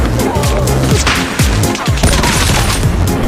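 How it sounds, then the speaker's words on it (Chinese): Sniper rifle shots hip-fired in Call of Duty Mobile crack out loud and close. Several sharp reports land in quick succession amid game action noise. "一起欣赏两波狙击腰射操作"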